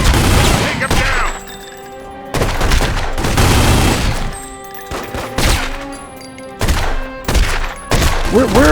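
Repeated bursts of gunfire in The Godfather: The Don's Edition video game, loud clusters of shots separated by short pauses, with a voice speaking briefly between volleys.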